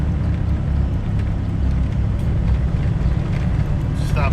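A John Deere 835R Gator utility vehicle fitted with tracks drives through a blizzard, its engine and track noise forming a steady low rumble close by with a brief voice near the end.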